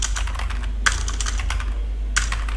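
A computer keyboard is typed on in a quick burst of crisp keystrokes with a few heavier key hits, close up over a low steady hum, with no voices.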